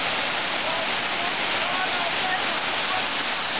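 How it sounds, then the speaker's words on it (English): A waterfall in the speaker's home city, a dense, steady broadband rush of falling water filling the whole stretch without a break. "There's the waterfall here."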